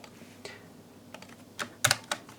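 Computer keyboard keys pressed while navigating an Excel spreadsheet: a few light, scattered clicks, then a quick cluster of sharper taps near the end, close and alone with no talk.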